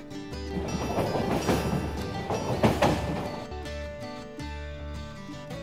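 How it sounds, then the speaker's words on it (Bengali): A train pulls into Dhanbad station with a heavy, continuous low rumble and clattering that swells in the middle, while steady droning tones run beneath it and then ease off toward the end. "ট্রেন ধানবাদ পৌঁছে গেছে।"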